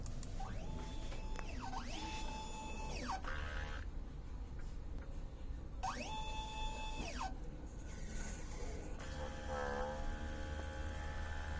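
An inkjet printer head-cleaning cycle: a mechanical whirring hum with rising and falling motor tones repeats in cycles, over a steady background drone, followed by a softer buzzing whine.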